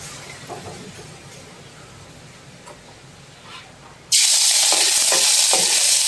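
Bitter gourd (ampalaya) stirs softly in a pan, then a sudden loud, steady hiss of frying bursts in and continues close by, with scraping stirs over the sizzle.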